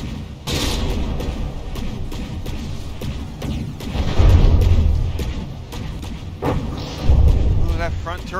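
A shell slams into the front turret of a listing battleship in From the Depths (FTD), landing as heavy booming thuds and crashes among steady battle rumble and gunfire, with a commentator talking over it.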